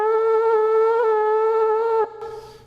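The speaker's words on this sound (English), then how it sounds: "the Romans used a quote-unquote horn to considerable historical effect by putting a long tube together like this" A Roman-style horn improvised from a long tube gives one loud, steady, buzzing brass note that holds for about two seconds, then breaks off into a quieter, rougher tone.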